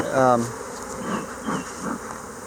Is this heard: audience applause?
no